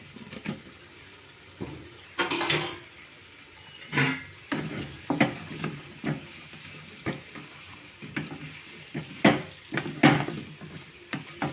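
Moringa drumstick pieces fry in a pan for an Andhra-style curry, with a soft sizzle under a string of irregular scraping stirs that come close and fairly loud.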